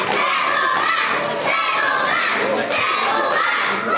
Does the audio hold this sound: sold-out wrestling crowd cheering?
yes